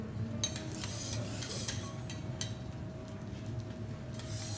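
Vegetables sizzling on a teppanyaki iron griddle as garlic oil is poured over them at a Wagyu teppanyaki restaurant, a steady close hiss with faint clinks of utensils, no voices.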